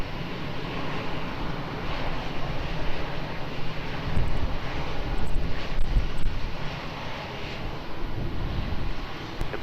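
Engines of an Airbus A321 airliner at Lisbon Airport, a broad sustained roar that swells and eases slightly throughout, heard from a distance with wind buffeting the microphone.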